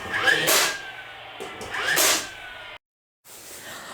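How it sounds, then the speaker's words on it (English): Pneumatic brad nailer driving 1-inch brad nails into plywood while a scrap wood storage cart is built, two sharp bursts close by, each with a quick hissing release, a short pause, then a faint one. "And I'm using some 1-inch brad nails."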